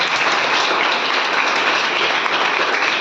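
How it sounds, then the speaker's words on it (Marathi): A crowd applauds for a teacher's artwork, producing steady, dense, loud clapping that holds evenly for a few seconds. "आवडला असेल तर जोरदार टाळ्या द्या सरांच्या कलेसाठी."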